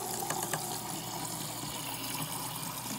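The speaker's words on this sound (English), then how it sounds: "first you want a clear cup and fill it with water and wait" Water poured into a clear cup, giving a continuous, steady gushing fill that stays loud and even from start to finish, with no talking.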